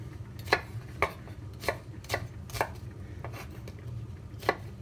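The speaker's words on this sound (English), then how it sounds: "We'll chop these up." A knife chopping vegetables on a board for a vegetable biryani: about seven sharp, separate chops with uneven gaps, close and fairly quiet over a low steady room hum.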